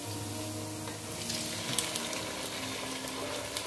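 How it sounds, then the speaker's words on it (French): Tomato going into a hot frying pan for poulet DG brings a constant close sizzle and crackle with a few sharper pops, and no voices. "Donc là, je rajoute ma tomate."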